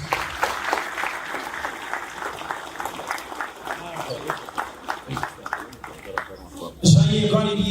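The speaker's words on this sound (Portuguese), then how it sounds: "Mais uma salva de palmas." Crowd applause at a formal Mozambican ceremony with the country's President present, sustained clapping that fades toward the end before a voice speaks over it.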